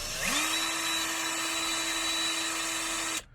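A power drill spins up and holds a steady high whine for about three seconds, then cuts off abruptly, close and clear.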